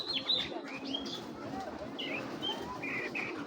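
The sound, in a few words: red checker pigeon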